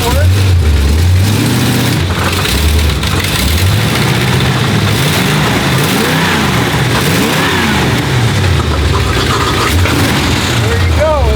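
A 1968 Dodge Charger engine runs loud and close, revving repeatedly in rising and falling surges over a rough, steady idle, with people talking nearby.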